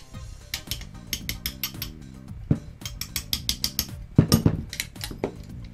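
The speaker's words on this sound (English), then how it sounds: "we'll start by pushing out the pin for the bolt catch here" Metal clicks and ratcheting taps from a G&G M14 airsoft gun as the bolt catch pin is pushed out of the upper, a close series of sharp mechanical knocks with no talk.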